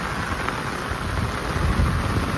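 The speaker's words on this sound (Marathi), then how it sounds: "विजा डेंजर घडघडत आहेत" Heavy monsoon rain pours steadily over flooded paddy fields in Konkan, with a low thunder rumble swelling beneath the downpour toward the end; continuous, fairly loud and close, with no voices.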